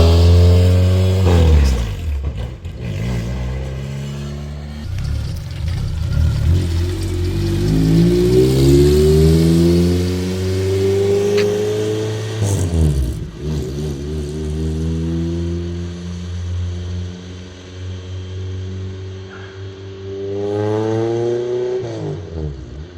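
A K-swapped Lotus engine revs up and down through a 3-inch exhaust, rising and falling in pitch with a steady droning rumble between pulls.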